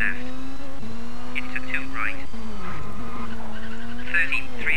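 In the Colin McRae Rally 2.0 video game, a rally car on the Rally Italy stage revs hard with a steady engine whine while its tires squeal in short bursts as it slides through corners.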